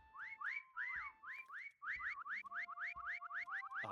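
Repeated rising whistles from players in the video game Meccha Chameleon, a quick run of bright two-note swoops, some overlapping, with a short pause before a faster, steadier series of whistled chirps and a faint held tone underneath.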